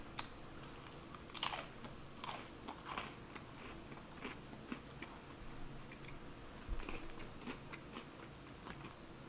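Crunchy pizza crust from Bartoli's being bitten and chewed close to the mic, with sharp crackling bites followed by steady crunching and smacking over a faint room background.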